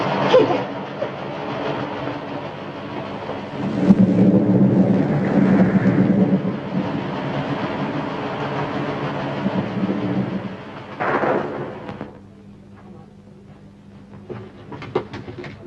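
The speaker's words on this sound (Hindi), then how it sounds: "शुक्र करो मौजी मियाँ, बखैरियत आ गया, वरना गजब की बिजली थी। चमकी, कड़की और गिरी।" Rumbling thunder in a heavy rainstorm, from a 1960 Hindi film scene: a long, loud, low roll builds and swells for around ten seconds, then fades into softer rumbling and patter.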